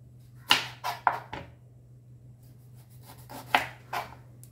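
Knife chopping knol kol (green turnip) on a board: a few distinct sharp cuts in two short bursts separated by a pause, close and clear over a steady low hum.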